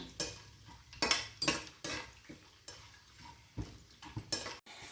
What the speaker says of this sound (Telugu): హోల్ గరం మసాలా వేసేస్తున్నాను. దీన్ని బాగా వేయించుకుందాము.